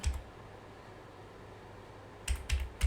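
Computer keyboard typing while working in FreeCAD: near-silence, then a short close burst of three or four quick key clicks at the end.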